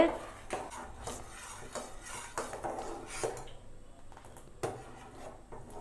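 Ragi porridge being stirred in a pot, with spoon scraping and clinking against the metal in an irregular rhythm of soft knocks and scrapes, close by and moderately quiet.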